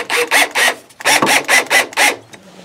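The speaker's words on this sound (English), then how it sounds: "Screw the screws into the holes you just drilled." Screws are driven by hand into freshly drilled holes in a wooden N scale model railway layout baseboard, making a series of about seven close, loud, rasping squeaky turns in an even rhythm, with short pauses between strokes.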